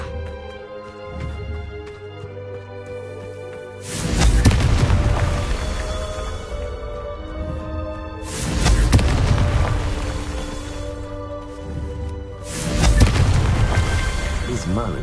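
Confringo fire spells explode in a Harry Potter video game, three heavy booming blasts spaced a few seconds apart, each with a long rumbling tail over a steady game music bed.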